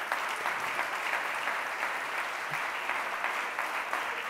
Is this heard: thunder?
no